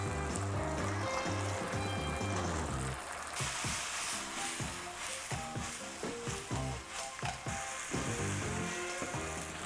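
Chicken pieces go into a thickened sauce in a frying pan, bringing a bubbling, sputtering sizzle up close, with soft clacks and stirring knocks popping through as the mixture is turned, and no voices.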